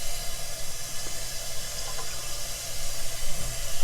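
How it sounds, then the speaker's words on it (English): Water pours steadily into a kitchen sink fitted with a garbage disposal unit, making a continuous, even rushing and splashing sound with no pauses. "we're going to put more water inside here"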